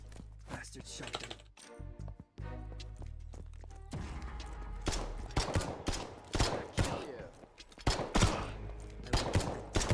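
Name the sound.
shotgun gunfire in the video game Potentia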